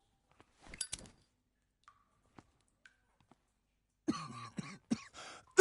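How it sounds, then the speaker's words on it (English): Coughing caused by toxic smoke from burning oil: a short burst of coughs, then a few faint clicks and thumps, then a louder, rougher run of coughing and throat-clearing at close range. "It's making you cough like a goddamn motherfucker, so I'm pretty sure it's toxic."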